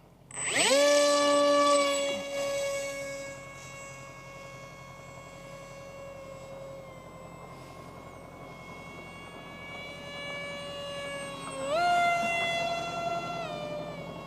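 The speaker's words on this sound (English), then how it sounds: "a good demonstration of how quick and maneuverable this amazing NAMC Mig35 is" NAMC MiG-35 model jet flying a fast, maneuverable pass, giving a loud sustained whine that holds steady and then swells again as it changes direction, with no talking over it.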